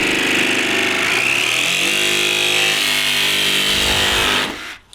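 A loud power tool whines continuously as it cuts, its pitch shifting slightly through the cut before the motor winds down and stops.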